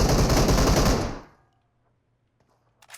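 Sustained automatic gunfire from PUBG Mobile rattles loudly for about a second, then cuts off into near silence broken only by a few faint clicks.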